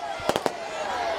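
Celebratory fireworks in Raipur welcoming the preacher Pradeep Mishra burst in a quick cluster of three sharp pops, then another one a moment later, cracking over a steady crowd murmur.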